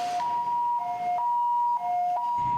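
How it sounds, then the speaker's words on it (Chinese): An ambulance siren sounds outside a hospital on a cold night, its two-tone wail switching steadily back and forth between high and low pitches, loud and continuous with no voices. "病院救护车的声"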